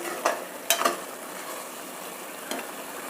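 Avarekalu masala fries in oil in a pan, a soft continuous sizzle running throughout, broken by a few sharp scrapes and clinks from the stirring spoon near the start and again toward the end.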